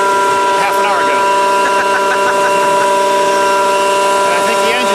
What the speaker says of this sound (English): And I think the engine's definitely happier too.